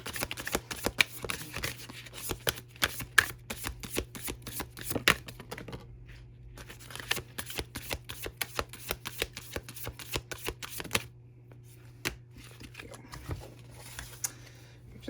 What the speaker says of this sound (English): These 2 cards popped out as I was picking up to shuffle again.